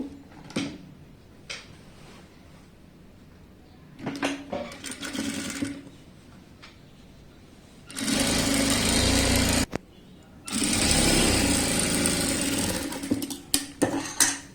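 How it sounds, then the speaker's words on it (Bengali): A sewing machine hems the leg openings of churidar pants, starting with scattered short clicks and brief bursts, then two loud, close runs of steady rapid stitching, each about two seconds long, separated by a short pause. "এখানে আমি পায়ের মুহুরিটা এভাবে চওড়া করে সেলাই করব।"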